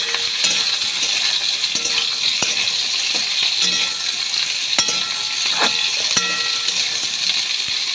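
Ridge gourd pieces frying in hot oil with nigella seeds and green chillies give a steady, bright sizzle throughout, broken by occasional clinks and scrapes of a stirring utensil against the pan.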